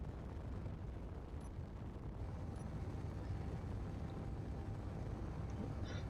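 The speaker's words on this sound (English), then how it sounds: "Sorry if these the engines are a little loud" Spaceship engines in the Space Engineers survival game roar as a steady, dense broadband rumble that stays loud and unbroken throughout, with no talk.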